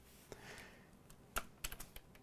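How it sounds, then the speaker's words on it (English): A computer keyboard in the vim editor gives a few quiet, separate keystrokes, with sharp clicks near the end of the clip and no talking. "So I'm going to type the letter I,"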